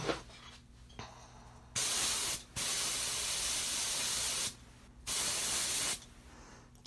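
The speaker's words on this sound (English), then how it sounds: "I'm testing out my spray on this area here to make sure that I'm not getting too much." A spray gun hissing in two long bursts, each a few seconds, with a short gap between and quieter handling sounds before and after, close to the microphone.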